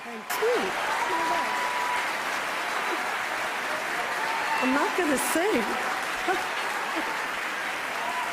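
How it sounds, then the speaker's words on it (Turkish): A Golden Globe Awards ballroom audience rises in a standing ovation, sustained dense applause filling the hall while someone speaks over it close to the microphone. "Herkes ayakta alkışlıyor gördüğünüz üzere."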